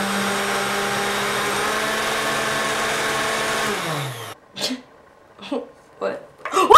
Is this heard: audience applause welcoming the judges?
no